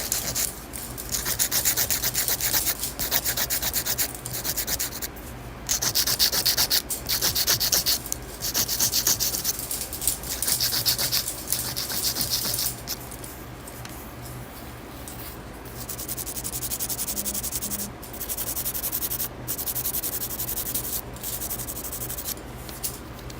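A zebra sanding band on a nail drill rubs and files across a fingernail in a steady, close, raspy scratching that pauses briefly and resumes, with no voices.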